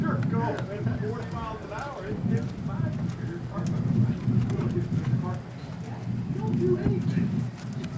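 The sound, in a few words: horse hooves trotting in a dressage arena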